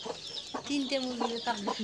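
Hens on a farm with chicks give a run of short, close clucks in an uneven rhythm, several rising calls following one another, with faint background noise.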